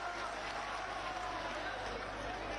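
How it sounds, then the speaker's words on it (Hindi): Dense, steady clapping from a large crowd at an election rally, a continuous wash of applause filling the whole stretch at moderate distance. "जोरदार ताली बजाए मोदी जी, योगी जी के इस समय के लिए"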